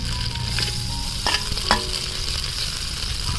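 Green chilies and onions fry in two spoons of hot oil, a dense steady sizzle broken by a couple of sharp spatula scrapes and clinks as they are stirred, close and without speech.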